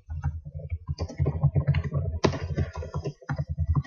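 Steady, close typing on a computer keyboard: a rapid, uneven run of soft key clicks with brief pauses and no voices.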